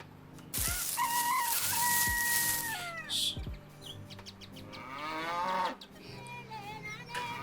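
A cow character in a webinar quiz game moos in a long drawn-out low call, with a bird-like chirp and softer cartoon tones around it, all clear and close with no talking.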